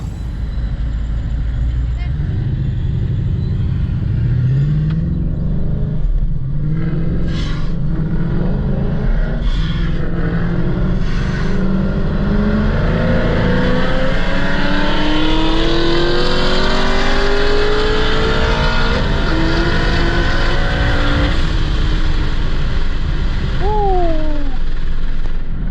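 A 900 wheel horsepower C6 Corvette accelerates hard and loud, its engine note climbing steadily through long pulls with brief shift breaks, over constant roaring rumble.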